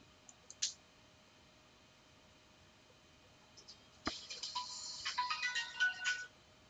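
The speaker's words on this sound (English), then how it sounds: "Sorry, that's my phone." A mobile phone ringtone bursts out after a stretch of quiet broken by a few faint clicks, playing a bright, looping electronic melody at moderate volume for about two seconds before cutting off.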